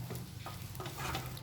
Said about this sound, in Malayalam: നന്നായിട്ട് ഒന്നുകൂടി മിക്സ് ചെയ്ത് കൊടുക്കുക.